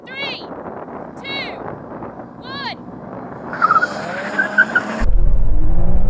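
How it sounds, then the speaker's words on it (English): A BMW M3 launches at a drag race start with a brief burst of wheel spin and tire skidding. Engine noise rises sharply at the end, and shouted voices come before it. "Bit of wheel spin there."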